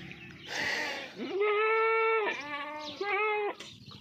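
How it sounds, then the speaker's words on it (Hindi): Goats, a mother with her kids at a farm sale, bleat loudly and close in a few drawn-out, wavering calls that overlap, with a little talk near the start. "दोनों बकरियां बोल रही हैं"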